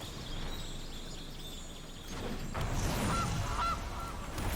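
A Goose card in a Magic digital card game gives a short honking goose call over a low, steady background hum, fairly quiet, with no voices.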